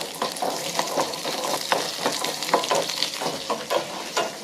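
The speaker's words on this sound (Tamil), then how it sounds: "பூண்டு நல்லா வணக்கணும்" Garlic sizzles in hot oil in a pan while a vada mixture with chana dal is being prepared, giving a continuous crackling fry broken by regular scraping stirs and light clinks of a utensil against the pan.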